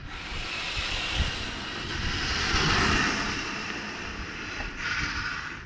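A 6S RC car makes a full-throttle street pass, a steady loud motor whine and rushing hiss that swells and fades across the run, with no voices.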